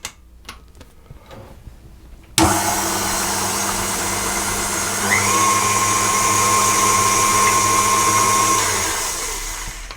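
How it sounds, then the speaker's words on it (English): A stand mixer fitted with a paddle attachment, used while making dough for cloverleaf dinner rolls, starts abruptly after some quiet handling noises. It settles into a loud, steady motor hum, and a thin high whine joins partway through. "Now I have my paddle attachment on my mixer ready for the flour."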